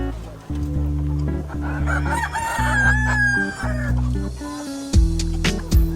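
Heritage chickens on a farm, both hens and roosters, cluck close by while a rooster lets out a loud crow mid-clip, all over a steady low tonal backdrop.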